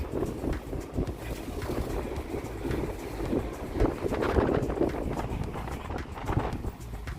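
Wind gusts buffet an outdoor walk near a shopping area, a loud rough rumble that rises and falls throughout with a few brief thumps.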